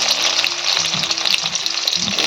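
Coarsely cut onions fry in a pan with black cumin, giving a loud, continuous sizzle, with a few soft knocks of stirring underneath.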